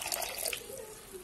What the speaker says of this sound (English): I'm washing it because of the dust in the market.